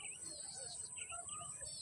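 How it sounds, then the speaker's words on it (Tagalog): Birds chirp and tweet in short, scattered calls over a low outdoor hum, fairly faint and steady throughout. "Dinig mo ba yung mga boses ng mga huni ng ibon?"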